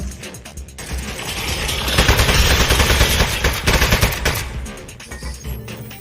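Turret gunfire in the video game Aperture Desk Job, a rapid mechanical burst of automatic fire that builds to a loud sustained stream and then tapers off into scattered shots.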